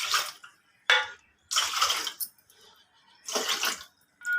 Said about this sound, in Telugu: నేను ఏ కప్పుతో అయితే పప్పు తీసుకున్నానో ఆ కప్పుతోటే పోసుకుంటున్నాను వాటరు